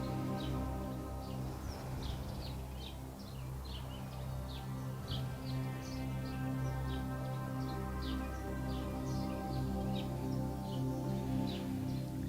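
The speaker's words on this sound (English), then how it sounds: "It sounds like they're having a bird convention in our backyard." Many birds sing and chirp at once in a backyard, a dense, steady chorus of short repeated calls continuing throughout, moderately loud and close, over a low steady hum.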